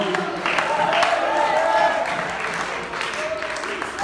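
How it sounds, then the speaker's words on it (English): United Pentecostal church congregation clapping and shouting in worship, a busy wash of scattered handclaps and raised voices, with talk and calls layered throughout. "If you believe, clap your hands."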